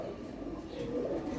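Pigeons on a pigeon farm give soft, low cooing, a quiet, short murmur of calls with no talking over them.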